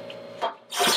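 A card scraper is dragged across a live edge wood board in two short rasping strokes, close and fairly loud, with no talk.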